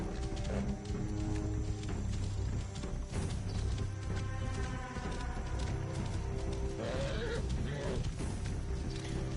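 Horse hooves clip-clop steadily in Assassin's Creed Origins with an occasional whinny, set against a dense, continuous game soundscape of ambient music and environmental noise.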